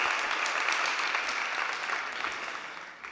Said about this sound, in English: Can we get a big round of applause for Miguel Alvarez from Kincode AI?